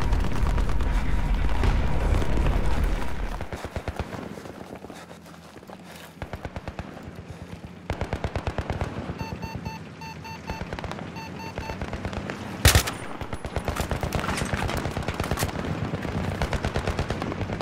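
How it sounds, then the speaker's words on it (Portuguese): Rapid bursts of automatic gunfire with a sharp explosion partway through in a co-op video game, with fire coming from a BMP armored vehicle, game combat sounds continuing loudly throughout. "Ah, eu tô tomando tiro do BMP."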